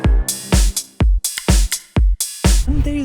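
Processed, glued drum mix with a steady kick-and-snare groove and sustained cymbal wash, fuller and more compressed so the hits blend together, ending in a tonal musical tail.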